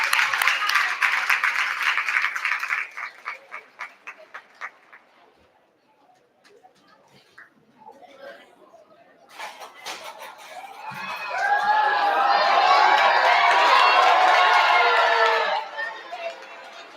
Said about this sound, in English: Let's give them a big round of applause as they take the stage.